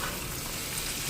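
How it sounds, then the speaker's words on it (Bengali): Food frying in a kadai on a home kitchen stove, a steady dense sizzle that fills the short moment at an even, close level with no voices. "আর এদিকে ভাজা বসাইলাম"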